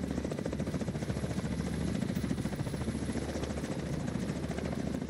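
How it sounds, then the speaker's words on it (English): An enemy helicopter in The Division 2 drones and thrums steadily with rotor pulsing, holding a constant moderate level from start to finish with no voices over it. "Enemy helicopter approaching."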